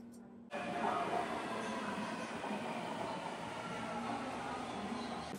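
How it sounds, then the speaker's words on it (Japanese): Taipei MRT subway train riding one stop from Longshan Temple to Ximen: steady, loud rumbling cabin noise with a constant hum begins abruptly and continues evenly, no voices. "MRT に乗って一駅隣の西門へ行きます。"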